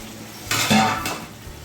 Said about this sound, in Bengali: আমি ঢাকাটা খুলে নেব।